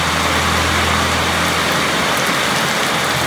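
Heavy rain pours steadily outside a house at night, a dense, constant hiss of drops hitting the ground and roof, loud and even throughout with a low hum beneath and no voices.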